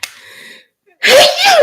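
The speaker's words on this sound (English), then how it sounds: "I'm sorry about that sneeze" One loud, sharp sneeze bursts out close to the microphone after a brief voiced sound and a moment of silence.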